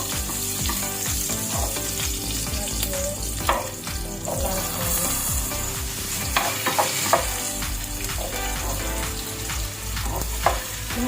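Garlic fries in a pan with a constant close sizzle, broken by occasional stirring scrapes and clacks, with no talk heard.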